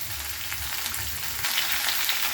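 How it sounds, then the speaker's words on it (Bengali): Cauliflower and potato curry sizzles steadily in a hot pan while being stirred, a continuous close frying hiss with soft scraping pulses and no talking. "দেওয়ার পরে এবার এভাবে নাড়তে হবে বারবার ধরে।"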